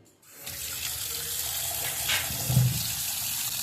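Tap water runs steadily into a kitchen sink while fresh prawns are washed clean, a continuous close splashing rush that starts after a brief quiet moment and carries on to the end.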